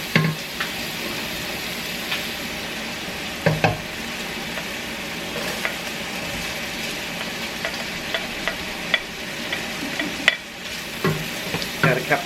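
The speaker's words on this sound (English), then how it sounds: "So I'm going to give that a stir, and I'm going to go ahead and add my onions in there." Butter, cabbage and onions fry in a pan and are stirred, with a steady close sizzle and scattered scrapes and clinks from the stirring utensil, and no talk.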